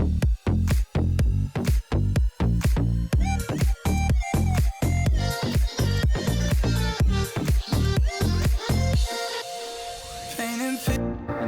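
An electronic dance drop from a track: punchy, evenly pulsing drums with claps and snares over a full bass line, loud and alone, ending in a bright rising riser sweep.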